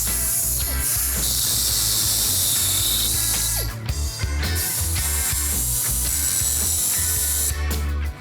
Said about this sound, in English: I'm gonna cut the U-bolts in half.